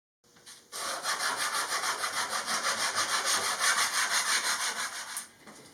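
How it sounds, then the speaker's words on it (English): Rhythmic back-and-forth rasping of sandpaper on the edge of a wooden kitchen countertop after rough sanding, a steady run of close, even strokes lasting several seconds. "So after the rough sanding, I'm doing the edges."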